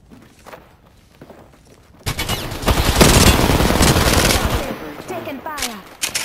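Gunfire in Apex Legends, scattered shots at first and then a long, loud, sustained automatic burst close by, with a few footsteps mixed in.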